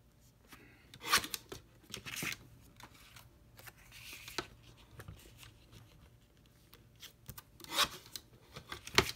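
Scissors trim a craft embellishment piece to height, making a few sharp, close snips and short rasping cuts spread out among quiet handling and rustling, with no talking.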